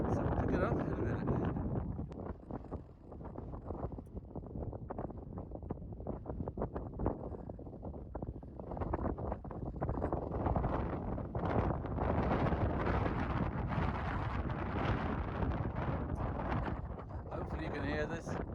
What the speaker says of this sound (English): As you can hear, pretty windy though.